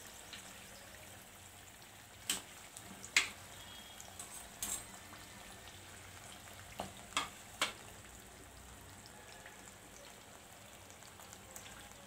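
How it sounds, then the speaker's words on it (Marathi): Karanji pastries fry gently in oil over a low flame, a faint, steady sizzle broken by a handful of sharp pops and crackles. "तेव्हा आपल्याला बारीक गॅसवरच तळायच्या मोठा गॅस नाही करायचा"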